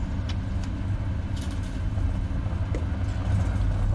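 FSLabs Airbus A321 landing rollout in Prepar3D v4.5 after arriving at Las Vegas, with a steady low engine and rolling rumble and faint clicks over it, loud and continuous.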